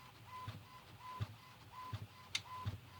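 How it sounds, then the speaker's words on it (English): A home printer feeds sheets through with a quiet, regular mechanical whir and soft clunks about every three-quarters of a second, plus one sharp click near the end. "oh, my printer is not balanced right"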